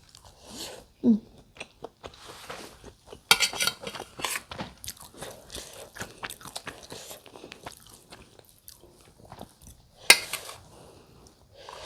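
Someone bites and chews a savory egg seasoned with Royco, with crisp crunches and wet chewing in close, irregular bursts, a faint clink of dishes, and no talk.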